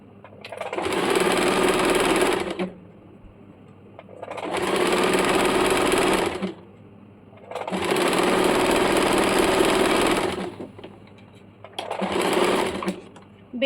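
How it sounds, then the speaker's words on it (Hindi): A sewing machine stitches a belt in four steady whirring runs of about two seconds each, separated by short quiet pauses, close and clear. "बेल्ट को एल शेप में सिलाई कर लेंगे।"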